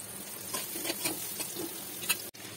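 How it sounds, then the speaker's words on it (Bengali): Ridge gourd slices frying in a pan with salt and turmeric, giving a steady close sizzle with soft stirring scrapes and a brief clatter near the end. "এরপরে আমি ঝিঙেগুলো দিয়ে ভালোভাবে ভেজে নেব।"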